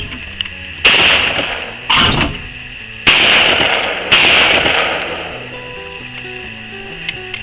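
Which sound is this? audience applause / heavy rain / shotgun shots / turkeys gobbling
shotgun shots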